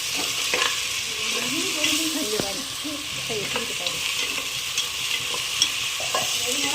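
Mutton biryani masala sautéed in a pan, a continuous sizzle with repeated scraping stirs and clicks of a spoon against metal, close and steady, no talking.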